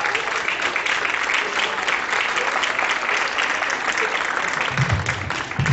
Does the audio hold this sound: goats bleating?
no